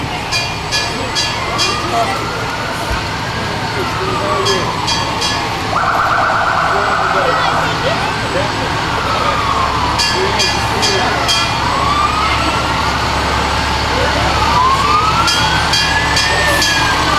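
A fire engine siren from Leavenworth Fire Department Engine Number 3 in the 2008 Leavenworth County Veterans Day parade wails in repeated rising and falling sweeps, loud and close, over steady crowd and street noise.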